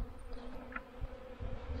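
Honeybees buzzing in a robbing frenzy around backyard hives in cool weather, a steady low hum of many insects close by with a brief louder pass from a single bee.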